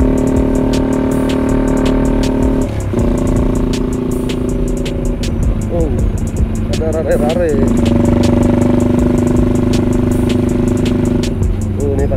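A 100 cc chopper motorcycle engine hums steadily while riding in fourth gear, loud and close for the whole stretch, with shifting pitch as it pulls; people talk over it throughout.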